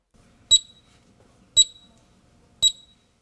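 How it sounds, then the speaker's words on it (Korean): Three short, sharp electronic beeps from a faulty market fire alarm system, spaced about a second apart, loud and piercing against a quiet background. "원인 모를 경보음이 자꾸 울린다며 소리를 강제로 꺼두기까지 했습니다."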